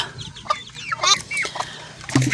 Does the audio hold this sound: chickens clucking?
yes